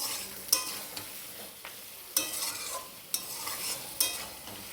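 Taro curry fries in oil while a spoon stirs it, scraping the pan in four distinct strokes over a soft, continuous sizzle, close up with no voices.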